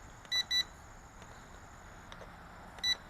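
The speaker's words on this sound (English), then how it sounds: "It's probably headless where it beeps the whole time." Bayang Toys X16 Typhoon brushless drone controller emits short, sharp electronic beeps, two in quick succession and then one more after a pause, over a quiet background.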